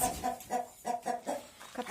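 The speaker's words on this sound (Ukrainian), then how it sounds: "А ну, курка йде звідси." A hen clucks repeatedly in short, rhythmic bursts, fairly close and moderately loud, with no talking.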